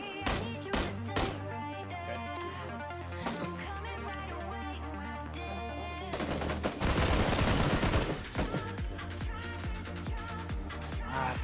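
Rapid bursts of gunfire crackle over a busy, loud backdrop, with a heavier stretch of continuous firing in the middle.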